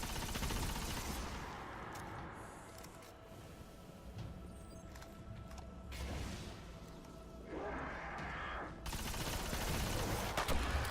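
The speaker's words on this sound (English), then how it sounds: "There's that thrall explosion again" Gunfire and a thrall explosion rattle through Destiny gameplay, with bursts of rapid shots, whooshing blasts and thumps spread over several seconds, loud and busy with no speech.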